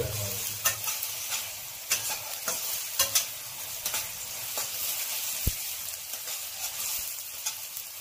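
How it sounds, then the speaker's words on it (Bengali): Sliced onion dropped into hot oil for a chicken tikka masala gravy sizzles steadily, with close, sharp clacks of stirring scattered throughout. "আর এই কোচানো পেঁয়াজটা এবার গরম তেলের মধ্যে ছেড়ে দিচ্ছি।"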